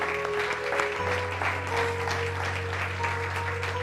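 Congregation applause at a church service, a steady wash of clapping filling the room throughout, with a low sustained organ or keyboard tone running underneath.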